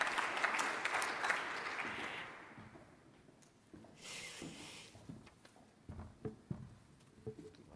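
Audience applause at a health-sector conference forum in Baden-Württemberg: a burst of clapping that fades after a couple of seconds, followed by scattered rustling, footsteps and small knocks as people move about.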